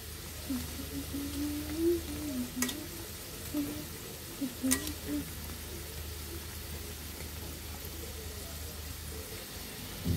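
Dough balls frying in hot oil on a stove at high-to-medium heat, a soft continuous sizzle with a couple of brief clicks as they are turned, while a person talks over it.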